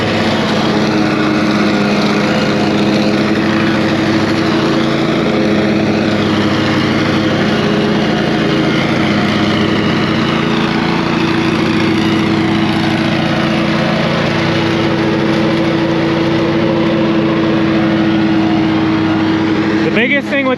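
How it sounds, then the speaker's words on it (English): A lawn mower with a bagger fitted on the back runs at a steady loud drone during a fall yard cleanup, continuous and close throughout, with a voice talking over the engine. "Biggest thing with this mower is you got to watch anytime you have a bagger out back"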